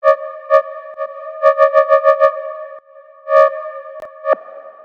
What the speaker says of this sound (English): It's that easy to get a high frequency wub